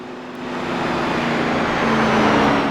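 A race car engine in the iRacing video game, an ARCA Menards Series stock car at Michigan, droning steadily and swelling louder as it approaches, with no talk over it.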